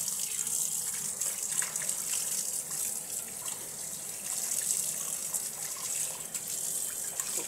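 Fish is rinsed under a running kitchen tap, a steady gushing stream of water that stays fairly quiet and continuous, with no voices.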